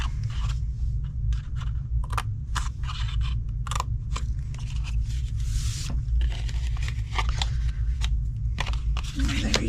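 Scissors or a trimmer slicing through cardstock along score lines, giving crisp crunching snips in quick irregular bursts, close and fairly loud over a steady low hum.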